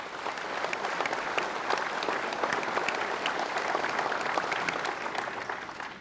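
Warm, sustained applause fills a large hall at a conference of Nobel Peace Prize laureates, dense even clapping from a big crowd that holds steady for several seconds before easing slightly.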